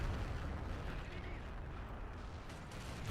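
Dense, continuous rumbling of artillery fire and explosions from a Men of War battle around a Soviet fortress, a thick wall of booms with no clear gaps, moderately loud throughout.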